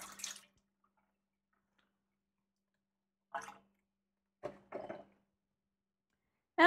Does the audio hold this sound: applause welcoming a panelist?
no